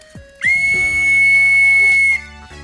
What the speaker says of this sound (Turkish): Düdük dedik herhalde